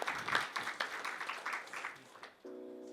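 An audience claps for performers in a quick scattered patter that thins out over about two seconds, after which a steady sustained tone takes over.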